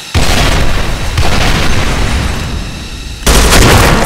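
A planted bomb exploding in the Special Force 2 shooter game, a loud sustained blast with rumbling debris that swells again in a second heavy boom near the end, with no talk.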